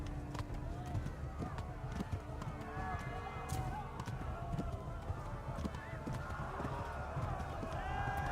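A horse gallops in Kingdom Come: Deliverance, its rapid clip-clop hoofbeats running steadily beneath game sound effects and a background voice.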